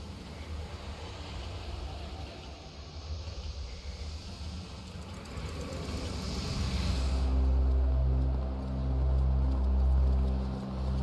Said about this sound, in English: train is now arriving.